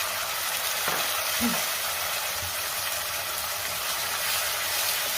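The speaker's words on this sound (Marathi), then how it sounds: "आता तेल सुटेपर्यंत आपण टोमॅटोची पेस्ट व्यवस्थित परतून घेऊया" Tomato paste sizzles and fries steadily in hot oil over ginger-garlic paste for a paneer masala, with a constant close hiss and a few soft stirring scrapes. There is no talk.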